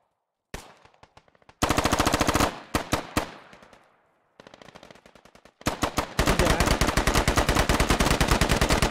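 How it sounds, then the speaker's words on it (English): Rapid machine-gun fire in a video game, loud and close, coming in several long sustained bursts separated by short pauses and a few single sharp shots. "Chris and Kyle taking shots."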